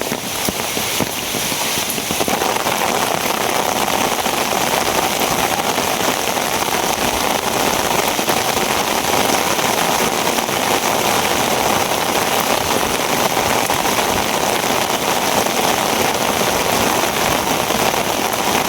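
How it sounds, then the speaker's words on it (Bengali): Heavy rain pours down outdoors during net fishing, a loud, steady, dense hiss of drops on surfaces that runs unbroken from start to finish with no talking. "প্রচন্ড বৃষ্টি শুরু হয়েছে।"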